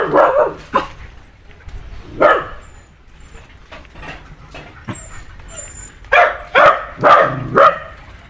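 Dogs at a pet shop bark in several loud, close bursts, a couple of separate barks early on and then a rapid cluster of four or five near the end, with small yips between.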